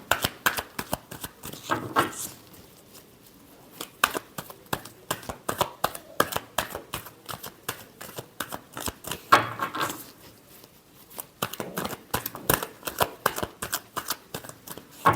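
Tarot cards are shuffled by hand in rapid riffling bursts, crisp close flicks coming in clusters with short pauses between, with little else heard.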